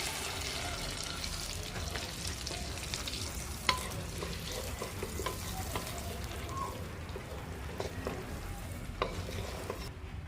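Butter melting and sizzling in a pan while cooking Filipino-style carbonara, a steady close frying crackle with light stirring and faint scattered pops, no talk.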